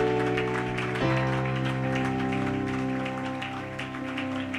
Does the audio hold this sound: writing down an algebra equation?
no